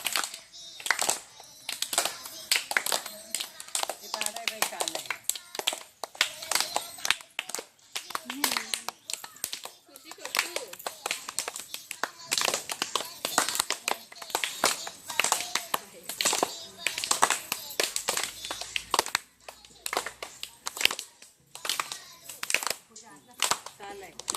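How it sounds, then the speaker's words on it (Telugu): A child claps hands during a Gobbemma puja, with dense, irregular bursts of close claps throughout and voices talking over them. "క్లాప్స్ కొట్టు"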